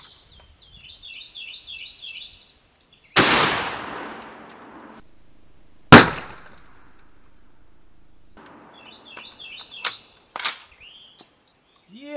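A shotgun loaded with 00 buckshot fires at a door from about seven or eight feet, giving one sharp, loud blast with a rumbling tail, then a second crack. Birds chirp faintly outdoors before and after.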